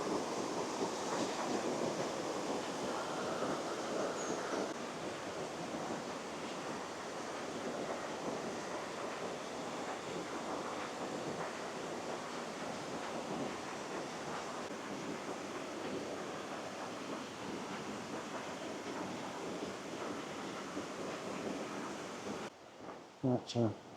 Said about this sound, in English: The waterfall's quite powerful.